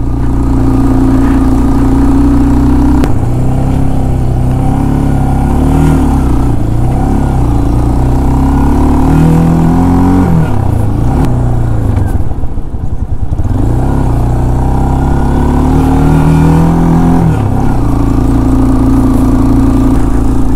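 Close and loud, a car's engine strains steadily in second gear up a steep hill road from Sudhan Gali toward Ganga Choti, its rumbling drone wavering with load changes and briefly dipping midway, with no voices.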